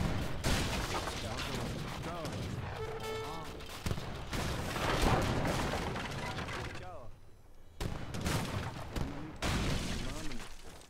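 Cannon and gunfire battle in the Age of Empires III: Definitive Edition campaign, with repeated booming volleys and crackling shots in bursts, a brief lull near the middle, and someone talking over parts of it.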